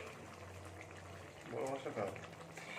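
Water bubbles at a boil in a pot of mixed vegetables before fish is added, a soft continuous burble up close with a brief louder gurgling swell midway.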